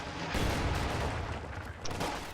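Game-simulated artillery and small-arms gunfire roll through a WWII strategy battle, a dense continuous rumble of booms and shots with a sharper crack near the end, no voices.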